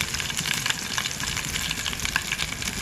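Chopped green chillies fry in a tempering of oil with dried red chillies and curry leaves, crackling and sizzling steadily up close with faint stirring and no talk.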